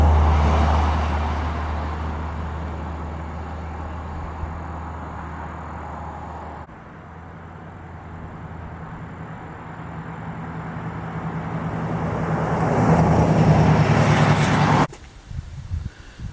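A Dodge D150 pickup's 225 Slant Six, cold and cranky after sitting, idles steadily with a low rumble for about fifteen seconds, rising slightly in level before cutting off abruptly; no talk.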